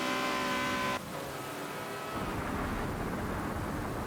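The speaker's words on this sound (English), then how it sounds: "there's the thunder, the crackle of thunder. playing out in the background." Thunder crackles through a Forza racing game while a blue Ferrari 360 runs in a race, a broad rumbling wash that swells after a brief tonal passage and holds steady and loud to the end.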